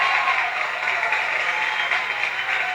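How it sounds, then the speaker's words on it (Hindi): Applause from a TV talent show audience after a singing performance, a dense, even clatter of clapping that sounds somewhat distant and thin, continuing without pause for a few seconds. "जोरदार तालियां।"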